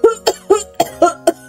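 An old man gives a harsh, rapid series of six coughs in quick succession, loud and close, each one a short rasping burst.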